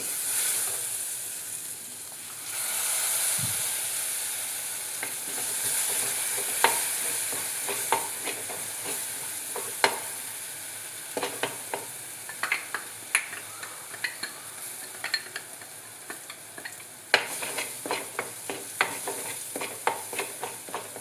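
Spice masala fries in a clay pot for a coconut-ground sardine curry, a soft sizzle broken by repeated sharp scraping and clicking strokes of stirring, close and continuous, no voices.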